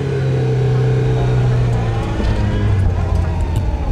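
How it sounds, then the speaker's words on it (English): A Mazda Miata does a burnout with a loud, steady engine drone and a rough roar that holds close by for the whole stretch, with no voices over it. "So this guy's learning burnouts for the first time."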